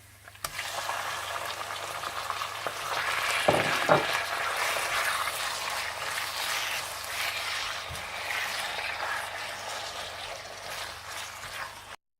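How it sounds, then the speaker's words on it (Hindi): A steady, crackling sizzle of chicken frying in a hot pan with garlic and oil, with a brief stir or clatter near the start and no talking. "आप इसमें चिकन डाल दें और इसे फ्राई कर लें।"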